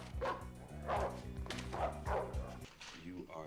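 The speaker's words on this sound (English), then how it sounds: "How did two crazy dogs get in your house?" Two agitated dogs bark and yip in quick repeated bursts, fairly close and loud, with voices talking over and between the barks throughout.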